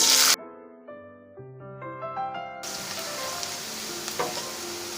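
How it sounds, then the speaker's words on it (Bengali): After a short rising musical chime, chopped onion drops into hot oil for matar paneer and breaks into a dense, steady crackling sizzle that continues close and unbroken to the end. "এখন যে পেঁয়াজটা কুচি করে রেখেছি পেঁয়াজটা দিয়ে দেবো"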